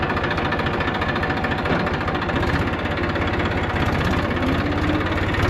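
A Doctor brand irrigation pump engine runs on a coffee plantation with a loud, close, steady chugging idle and a continuous rapid mechanical knock that never lets up.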